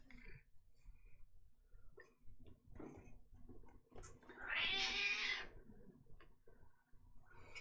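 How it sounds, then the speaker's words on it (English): A cat meows loudly once, a drawn-out cry, amid soft room noises and faint ticking in a quiet indoor space. "Even the cat agrees."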